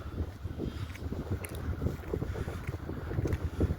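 Gusty winter wind at a sports ground in Drachten, Netherlands, buffets the microphone in a continuous low rumble, with faint flutters and no voices.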